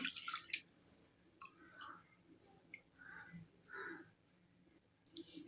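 Raw rice rubbed gently by hand and rinsed in water while making Maharashtrian varan bhaat, heard as soft wet swishing, small drips and light clicks of grains, close and quiet, with a few brief louder splashes at the start and end.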